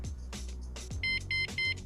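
Three short electronic beep bursts from an e-bike alarm arming, in quick succession, bright and close, following a couple of soft thumps and background rumble.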